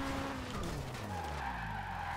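A Subaru BRZ drifts in Forza Horizon 2, with a continuous loud tire skid and squeal layered over a revving engine whose pitch slides downward, and no talking.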